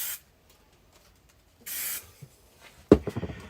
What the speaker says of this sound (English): all I'm going to do now is I'll spray glue for speed again